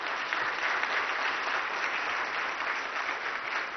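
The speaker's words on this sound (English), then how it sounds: "Bigger round of applause, Bangalore." A large audience at an AI conference in Bangalore applauds in a steady, dense wash of clapping that stays loud and even throughout, with no talking over it.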